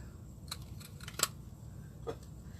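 Scissors snip out small paper pieces for handmade cards, giving a few faint, sparse crisp snips close by over a quiet room hiss.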